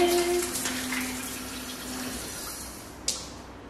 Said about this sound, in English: I'm gonna help wash my hands.